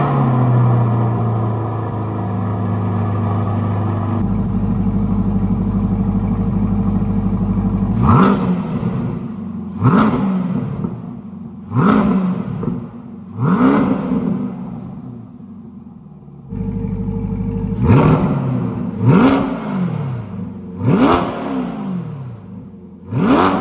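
A 6.2 liter small block Chevy V8 with a Borla exhaust idles with a deep steady rumble, then barks through a series of sharp revs, about a dozen punchy throttle blips in two clusters, loud and close with no talking.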